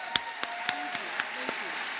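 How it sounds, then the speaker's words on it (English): A film festival audience gives a round of applause at Ebertfest 2017. A handful of separate, fairly sharp claps land at a steady pace over a quiet background, with some voices talking underneath. "let's give her a round of applause"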